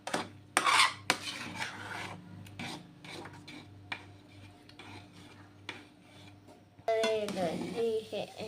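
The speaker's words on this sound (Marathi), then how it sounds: "नंतर मिक्स करूया." Spoon scraping and stirring in a pan as cardamom powder and nutmeg powder are mixed into sweet puran filling for puran poli, with irregular clinks and rubbing, a louder burst of stirring near the end.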